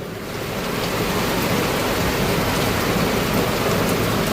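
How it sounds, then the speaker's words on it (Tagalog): Heavy rain pours down steadily in a dense, unbroken roar that swells slightly at the start and then holds loud and close, with no voices over it. "Grabe tong ulan na to."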